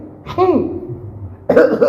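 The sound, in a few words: imitated sneeze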